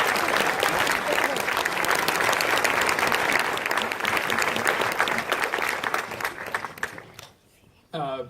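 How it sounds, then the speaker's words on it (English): Sustained audience applause fills a film premiere Q&A for the Canadian film Sundowners, a dense steady clapping crowd that fades near the end before a voice begins speaking. "So Dan Lyon from Telefilm Canada, please stand so we can all applaud you."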